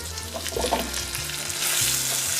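Turmeric rice with diced vegetables frying in a pan, a loud close sizzle with stirring scrapes and shuffles, the frying hiss swelling toward the end, with no voices.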